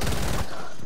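Rapid gunfire in a video game aimed at the player, a dense burst of loud shots packed together for about half a second, then cutting off into quieter background noise.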